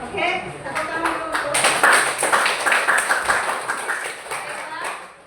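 A classroom of students claps together in a sustained round of applause, steady and fairly loud, with some voices mixed in.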